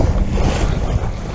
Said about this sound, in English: The waves are pushing the boat around, but we're in control